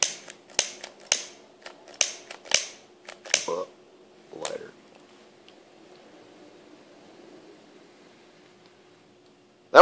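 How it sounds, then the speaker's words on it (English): Loose gunpowder set alight in the open gives a quick run of sharp crackling pops that thin out into a soft, fading hiss, ending in near silence before one last burst. "when I light this, it'll just go nice and slow."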